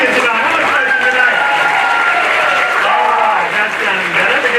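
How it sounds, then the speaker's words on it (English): A live stage-show audience applauds and cheers loudly and steadily, with whoops and a continuous crowd roar over the clapping, no individual voice standing out. "Give yourselves a big round of applause, ladies and gentlemen."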